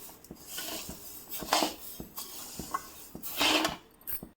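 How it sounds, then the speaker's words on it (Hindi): A spoon stirs coriander seeds as they dry-roast in a wok, making faint, repeated light taps and scraping rubs of metal against metal at a close, quiet level. "लगातार चम्मच चलाते हुए इसको हल्का हल्का भून लेंगे"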